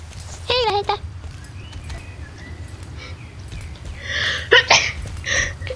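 A single sharp sneeze bursts out partway through, with people chatting around it in Finnish during an online game session.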